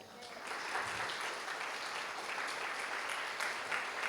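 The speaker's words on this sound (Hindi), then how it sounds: "आपके लिए तालियां बजाएं।" A church congregation at a Sunday service applauds in a steady, faint wash of clapping that swells after the first half second and continues evenly to the end.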